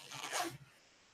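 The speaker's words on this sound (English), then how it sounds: "I have a clevis from an airplane control rod is what I grabbed to zip up my coat" A jacket zipper is pulled up with an airplane control-rod clevis standing in for the broken pull, one short close rasping zip that ends abruptly, then quiet.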